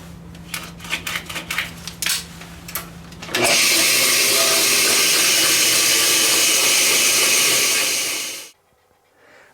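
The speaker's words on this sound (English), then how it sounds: "I'm going to take this to the bandsaw and we'll cut it." Bandsaw slicing through a resin casting blank: a few sharp ticks and taps, then a loud continuous high rasping whine for about five seconds that stops abruptly, leaving near silence.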